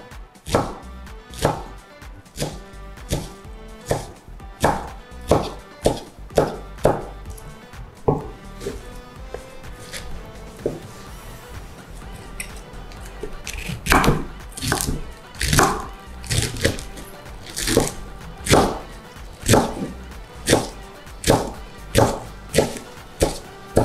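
Knife chops salted mustard greens into small pieces on a board, sharp loud thwacks in quick rhythmic bursts, some runs fast and dense, others spaced, close to the ear with brief pauses between.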